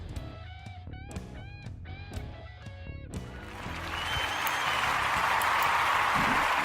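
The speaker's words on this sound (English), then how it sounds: "They're applauding for you, Dave." A crowd breaks into applause and cheering after a short musical jingle, the clapping swelling in and holding loud and continuous to the end.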